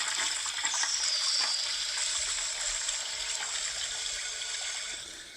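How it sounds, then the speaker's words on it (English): A toilet flushing, a steady rushing gush of water that stays loud and then slowly tapers off near the end, heard alone without talk. "Can we get the sounds of the flushing?"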